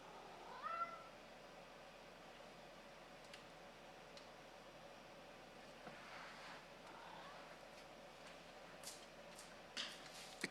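A house cat meows softly once near the start, then only faint ticks and clicks follow over a steady low hiss, with no talking.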